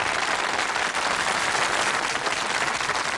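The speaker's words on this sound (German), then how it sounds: "Das ist ein extra Applaus, sicherlich" Steady, dense applause from a concert audience at a big band swing session, greeting a young alto saxophonist; continuous and fairly loud throughout, with no talk over it.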